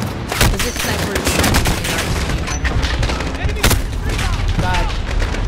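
Dense, rapid gunfire fills a Call of Duty: Modern Warfare match, with sharp repeated shots and booms from a sniper rifle and other weapons crowding together loudly throughout.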